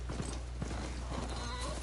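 Hoofbeats of a ridden machine mount in the Horizon Forbidden West video game clop in a quick steady rhythm, close and fairly quiet over a constant low hum.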